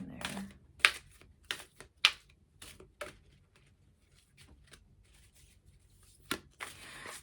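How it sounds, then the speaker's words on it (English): A deck of cards is riffled and shuffled by hand in repeated short bursts of crisp flicking and tapping, close up and fairly quiet with pauses between. "There's something that I do when I shuffle cards, or I often try to do"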